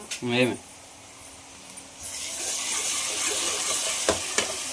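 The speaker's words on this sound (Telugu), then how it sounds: "ఉల్లిపాయ పచ్చిమిర్చి అయితే బాగా వేగినాయి కదా, గరం మసాలా అల్లం వెల్లుల్లి పేస్ట్ వేసేస్తున్నాం" Onions and green chillies fry in a pan as garlic paste goes in, a short burst of stirring giving way to a steady, louder sizzle with a few scrapes, and a voice heard briefly at the start.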